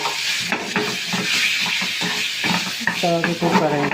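Marinated chicken pieces hit hot oil in a pan for homemade shawarma and sizzle steadily, with stirring and scraping against the pan throughout. Someone talks over the cooking.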